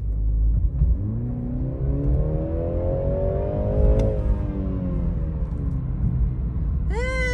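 A 2021 BMW 330i engine pulls up through the revs in a steady, rising drone heard from inside the cabin, easing off briefly before climbing again, with no talk over it.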